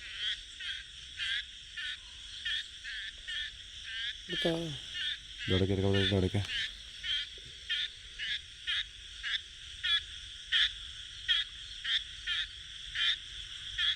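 A frog croaks over and over in a steady, loud rhythm while a snake is attacking it, and a voice briefly speaks partway through.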